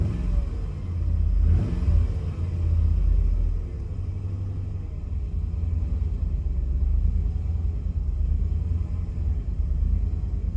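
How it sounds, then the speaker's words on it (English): A Chevy Tahoe engine on a cold morning idles unevenly, then gets a brief throttle blip into a deep revving rumble before settling back to a rough, steady low idle, close and loud throughout. "Let me give it a little gas here and see if I can clear that up."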